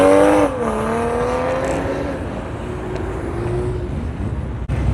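A revving turbocharged Volkswagen Beetle passes close by at a car meet, its pitch dropping as it moves away and fades into road noise.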